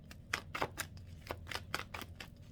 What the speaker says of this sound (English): just want to shuffle this a couple of times